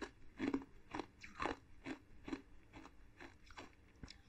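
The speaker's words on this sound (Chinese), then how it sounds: "听声音没？ 感觉好像是在嚼冰块呢。" Tiny crunchy star-shaped rock-sugar candies are chewed up close, a rapid run of sharp crisp crunches in a steady biting rhythm, quiet but distinct with no talking.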